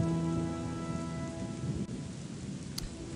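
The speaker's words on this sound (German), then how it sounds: "was mir auf jeden Fall negativ an der Mod auffällt, ist der Regen" Rainfall in the Gothic 2 mod Chronicles of Myrtana, a dense steady hiss of rain with a soft low rumble beneath, continuous and fairly faint, with no voices.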